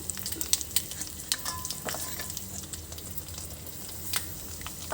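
Mustard seeds, cumin, curry leaves, dried chilli seeds and turmeric sizzle in hot oil as a tempering, a close crackling fry with sharp pops and stirring scrapes throughout.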